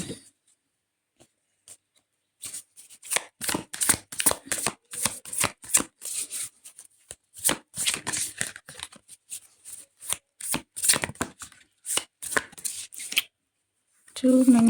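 Tarot cards being shuffled by hand in quick, crisp riffling bursts, repeated in several clusters with short pauses between them, close and fairly clear, with no talk over them.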